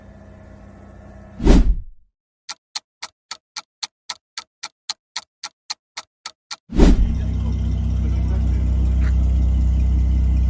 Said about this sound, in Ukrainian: Ось так у нас працює поворотничок